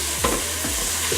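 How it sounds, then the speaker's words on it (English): Garlic and ginger frying in a pan, a steady close sizzle with a few spoon-scraping stirs through it, no talking. "Make sure you stir it every now and then as well, without letting it go."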